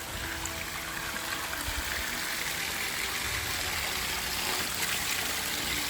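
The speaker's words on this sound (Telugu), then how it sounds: "ఈ పుష్కరిలో శివుని కింది నుంచి వచ్చిన వాటర్ నంది నోటి నుంచి ఏ విధంగా బయటకు వచ్చిందో చూడండి" Water pours steadily from the mouth of a Nandi statue into a temple tank at Bugga Ramalingeswara Temple in the Ananthagiri Hills, a soft, continuous trickling flow heard alone at low volume.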